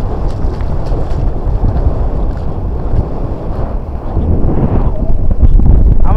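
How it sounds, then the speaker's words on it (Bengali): Strong wind buffets the microphone out on the open sea off Mandarmani, with a boat's steady rumble and water noise filling the clip continuously, loud and close throughout. "আমরা এখন সমুদ্রের মাঝখানে,"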